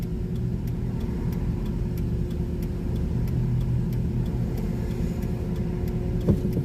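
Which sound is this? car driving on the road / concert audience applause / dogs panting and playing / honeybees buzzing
car driving on the road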